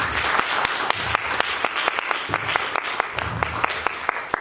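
An audience at a drama stage event applauds the actor Zafar Iqbal Bhatti, a sustained wash of clapping with sharp individual claps punching through, close and fairly loud.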